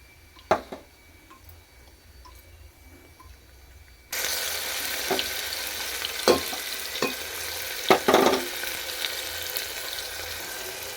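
Onion pieces hit hot oil already holding cumin and mustard seeds for a chayote curry: a quiet start, then a sudden loud sizzle that keeps going, with occasional spatula clacks close by.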